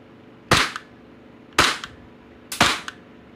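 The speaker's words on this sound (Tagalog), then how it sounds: "Okay. Ayan na guys. Test natin." A Glock 18C Gen 3 airsoft toy gun fitted with a Roni kit fires three sharp, snappy single shots roughly a second apart, close and loud, each followed by a brief rattle, with no talking.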